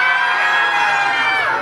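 A festival crowd in Brno shouts and cheers, a dense loud wash of many voices whooping together, steady for a brief moment.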